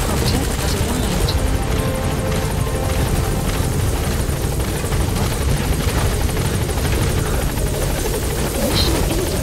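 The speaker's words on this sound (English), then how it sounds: "Support helicopter has arrived." Support helicopter arriving in the video game Metal Gear Solid V: The Phantom Pain, a steady loud rotor roar sustained throughout with a dense engine buzz, heard alongside game voice and sound effects.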